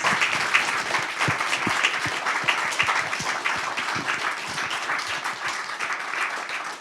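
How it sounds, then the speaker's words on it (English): A crowd applauding steadily, dense clapping from many hands filling the room at a fairly loud, even level. "Another round of applause for Thomias."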